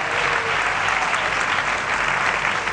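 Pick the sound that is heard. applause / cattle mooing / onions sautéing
applause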